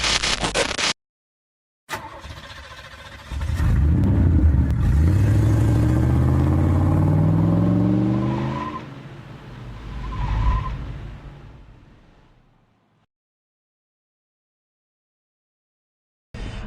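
A 1985 Chevy K20 four-wheel-drive truck with a freshly built 468 big-block V8 revs up loudly and roars as it pulls away, rising in pitch through the gears before fading out, with no voices.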